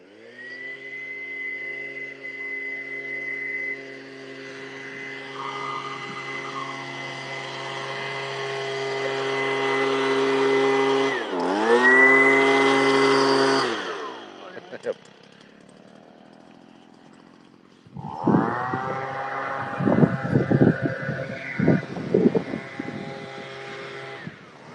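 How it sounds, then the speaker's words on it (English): A loud, droning leaf blower motor whines steadily outdoors, rising in pitch and then cutting out; after a pause it restarts with rougher, sputtering bursts. "Just got his leaf blower going."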